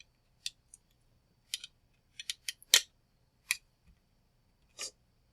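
A screw being driven down on an LCD bracket assembly, producing a series of sharp, quiet clicks and ticks spaced irregularly in otherwise near silence.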